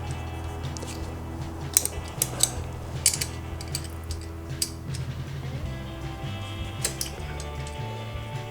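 A wrench works at a nut on a Harley-Davidson Sportster motorcycle, giving scattered metallic clicks and ticks at an irregular pace over a low steady background hum, fairly faint and close, with no talk.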